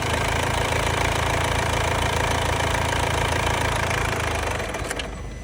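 Diesel engine of a Mercedes C-Class runs with a steady, loud clattering rumble up close, then cuts out near the end, leaving the sound fading away.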